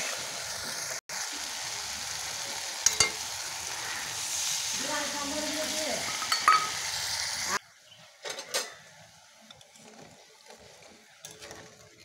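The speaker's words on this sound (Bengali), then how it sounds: "মশলাটা কষানো হয়েছে, জল দিয়ে দেবো।" Water poured onto a sautéed mustard-paste spice mixture in a pan makes a faint, steady hiss that cuts off abruptly partway through, leaving a few soft clinks in near silence.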